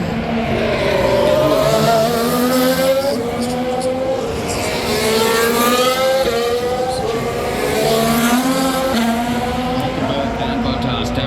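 Formula 1 cars on qualifying laps at the Las Vegas Grand Prix, including Williams cars, roar through rising and falling gear changes, a loud continuous whine of engines passing close.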